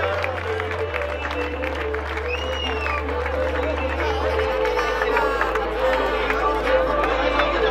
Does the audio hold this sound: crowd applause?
yes